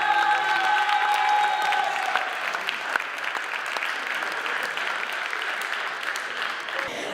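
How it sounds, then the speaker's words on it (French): An audience claps loudly for graduating students at a school's tenth-anniversary celebration. The applause is broad and continuous, with a faint steady tone early on, and it eases slightly toward the end. "Et on peut les applaudir."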